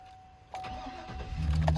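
A 2015 GMC Sierra 3500HD pickup's 6.0L Vortec engine cranks and catches, then settles into a low, steady rumble that grows slightly as it idles, heard up close.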